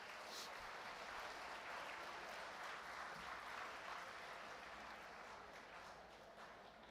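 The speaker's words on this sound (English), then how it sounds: "So I give a big applause and thanks to the students community." Sustained applause from a conference audience, a dense, steady wash of clapping that holds for several seconds and eases slightly toward the end, moderately distant.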